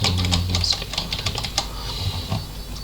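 Rapid keyboard typing while an IP address and username are entered, with quick, irregular key clicks close by over a faint low hum and no talking.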